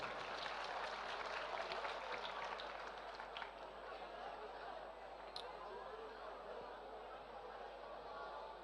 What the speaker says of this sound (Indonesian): Ya, beri tepuk tangan dulu, beri tepuk tangan.